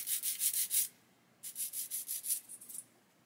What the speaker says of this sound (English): first time ever sanding with a UMP sander